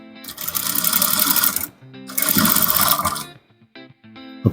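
A sewing machine top-stitches a trouser front pocket in two long steady runs of rapid whirring stitches, separated by a short pause, with light handling clicks at the end.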